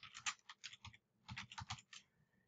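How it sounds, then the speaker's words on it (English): Quiet, close typing on a computer keyboard comes in two quick bursts of keystrokes separated by a short pause. "I can type a subject."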